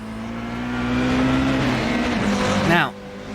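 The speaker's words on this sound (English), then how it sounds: "to hear those super touring little 4-pot engines screaming to within an inch of their life" Late-1990s British super touring cars with four-cylinder engines scream at high revs in the Assetto Corsa racing game, a loud sustained buzzing drone that shifts pitch, then drops away sharply near the end.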